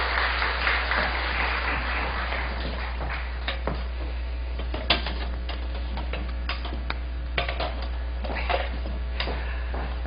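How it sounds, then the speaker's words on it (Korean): A church congregation applauds a pastor, scattered claps spread across the room, with a steady low hum underneath. "우리 한웅재 목사님께 다시 한번 감사의 박수 올려드리면 고맙겠습니다."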